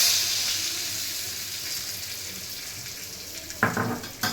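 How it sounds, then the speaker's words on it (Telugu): Tempering in hot oil for eggplant milk chutney, a steady hiss of sizzling frying that fades slightly, followed by a couple of short louder clattering bursts near the end. "ఇదిగోండి తాలింపు వేసేస్తున్నాను"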